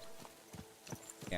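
Horse hooves clip-clop at a walking pace in Kingdom Come: Deliverance 2 on PS5, a faint, evenly spaced series of four or five hoof strikes with a brief rustle at the end.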